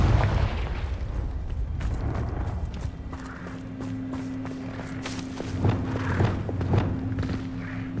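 A Confringo blasting spell explodes in Hogwarts Legacy, a muffled boom among thudding impacts and hoof-like steps, with a low droning hum beneath and further soft blasts following.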